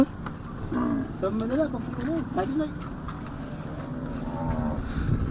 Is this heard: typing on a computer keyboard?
no